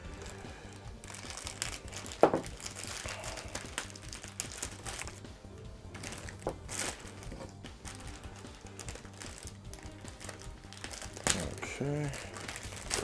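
Plastic packaging around a Banpresto One Piece Stampede Glitter & Glamours figure crinkles and rustles almost continuously as it is unwrapped, with small clicks and sharper crackles scattered through and soft speech partly underneath.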